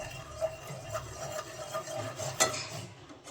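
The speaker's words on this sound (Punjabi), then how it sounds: "ਭੁੰਦੇ ਰਹਿਣਾ ਬੇਸਨ ਨੂੰ ਘੱਟ ਗੈਸ ਤੇ ਜੀ" Gram flour (besan) is roasted on low gas while being stirred in a pan, a close, quiet scraping and rubbing with a soft repeated rhythm, one sharper scrape near the end.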